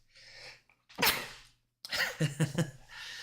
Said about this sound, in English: Yeah, I'm gonna sneeze.